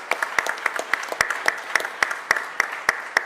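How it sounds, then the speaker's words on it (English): A crowd applauds for Eric Lewis, a Philadelphia prisons official, at a public event: steady, rhythmic clapping with sharp regular beats standing out over a lighter spread of hands, moderately loud and unbroken. "Give Eric a round of applause"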